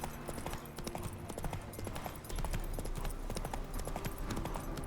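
Hooves of Roach, Geralt's horse in The Witcher 3 video game, clip-clop steadily in a fast repeating rhythm over a low rumbling game ambience, growing slightly louder partway through.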